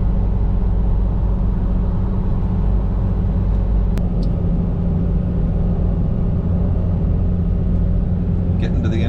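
A vehicle towing a trailer cruises along a road, a steady loud low rumble of engine and road noise filling the whole stretch without pause.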